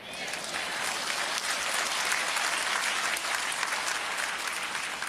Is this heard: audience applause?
yes